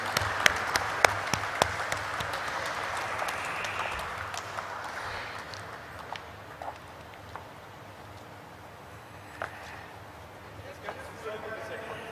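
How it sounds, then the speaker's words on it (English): An audience at the listing ceremony of SBFC Finance Limited claps in a sustained, moderately loud round of applause, with voices faintly audible underneath. "Let us keep clapping, ladies and gentlemen."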